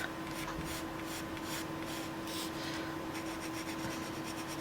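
Soft, steady scratchy strokes of a coloured pencil rubbing across smooth paper, repeating in a quick rhythm against a faint hum, close and quiet.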